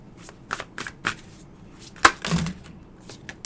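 Tarot cards being shuffled by hand during a reading, a series of crisp riffling bursts and soft slaps at close range, irregular in rhythm, with no talking.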